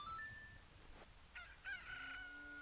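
A Cucco chicken crowing in Zelda: Ocarina of Time, a faint, thin cock-a-doodle-doo rising over soft game background ambience, with no talk over it.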